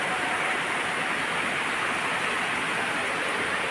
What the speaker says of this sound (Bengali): আর এই যে ঝুম বৃষ্টি বৃষ্টি কিন্তু একদম কম না অনেক বৃষ্টি